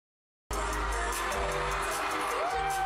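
Crowd at a K-pop concert cheers and screams steadily after a sudden start, a dense roar of whoops and shouts filling the space with music faintly underneath.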